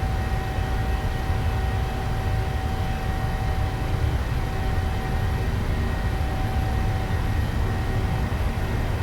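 Boeing 737 jet engines roar during a takeoff roll in the PMDG flight simulator game, a steady, loud, even rumble that holds throughout with no one talking.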